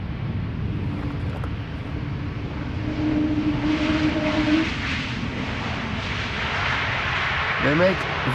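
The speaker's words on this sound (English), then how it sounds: "They make very typical sounds, both when spooling up, also when throttling down, also when they're landing" Airliner noise at Amsterdam Schiphol Airport, a steady broad engine roar swelling slightly in the middle, with faint whining tones, heard from a distance under a voice talking.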